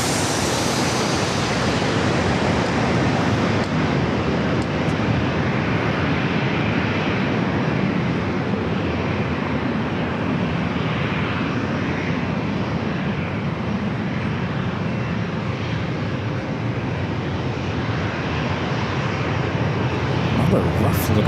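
An airliner landing at San Diego airport: a steady, loud broadband roar of jet engines and rushing air sustained throughout, with talk mixed in beneath.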